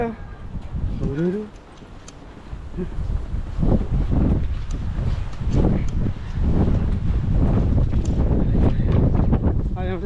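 Strong gusty wind roars across a hill path in the UK, buffeting the microphone loudly and continuously while a person talks over it and birds chirp briefly near the start.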